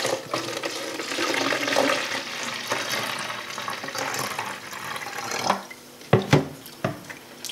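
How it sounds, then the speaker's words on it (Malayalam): White vinegar poured from a bottle into a spray bottle, a steady splashing, gurgling liquid stream running for several seconds at close range, followed by a few sharp plastic clicks and knocks as it ends. "ഇതുപോലത്തെ സ്പ്രേ ബോട്ടിലേക്ക് വൈറ്റ് വിനാഗിരി എടുത്ത് ഒഴിക്കാം"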